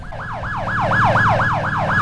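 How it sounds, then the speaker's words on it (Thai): A police car siren in the Roblox video game, a loud, close electronic wail sweeping up and down in a fast, steady cycle, about eight rises and falls over a low engine-like hum, with no talking. "ฮ้ยเสียงไซเรน มาแล้วรถตำรวจ"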